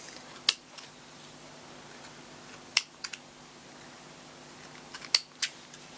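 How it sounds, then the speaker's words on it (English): Scissors snipping thread ends after sewing a buttonhole on a kitchen towel: three quiet clusters of sharp, close clicks spaced a couple of seconds apart over a faint steady hum. "Just snip off your ends."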